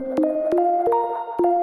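Short synth melody with bloopy, glitchy tones, an upper-octave copy entering slightly late like a delay; four quick note changes with sharp clicky attacks, loud and alone.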